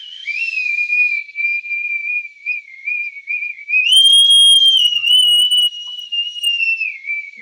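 A bosun's whistle is blown in a long, loud, steady tone that wavers slightly, steps up to a higher pitch midway, then settles back, held near and alone without talk.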